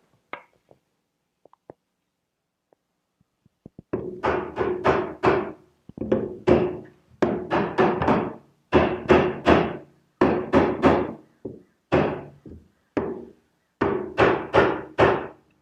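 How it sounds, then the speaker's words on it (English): The rear leg of a wooden furniture assembly is tapped into place: a long series of short knocking strikes in irregular clusters, close and distinct after a quiet start, with no talk. "to tap the rear leg in a little bit"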